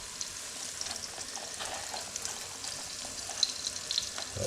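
Fish pakora in batter frying in hot oil, a steady faint sizzle and crackle with small bubbling pops, no voices.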